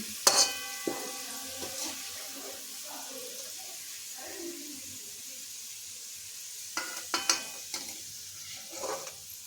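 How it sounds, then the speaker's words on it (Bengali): Onions deep-fried crisp in oil over a high flame for chicken biryani: a faint, steady sizzle with a few sharp utensil clinks and scrapes as they are lifted from the oil, near and quiet, without speech. "পুরোটাই হাই ফ্লেমে ভাজলাম এখন এগুলো মুচুমুচি হয়ে গেছে এখন এগুলো তেল থেকে তুলে নিচ্ছি"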